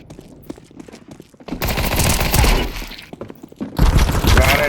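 Automatic gunfire in a Counter-Strike 2 deathmatch, two loud rapid bursts of shots separated by quieter distant pops and clicks, with no talking.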